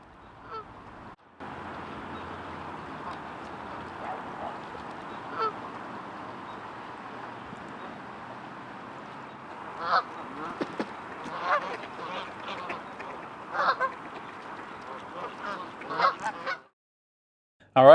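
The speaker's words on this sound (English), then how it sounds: "Got the cackling goose." Cackling goose honks sound repeatedly, moderately close, over steady background hum, with several sharper calls clustered toward the end.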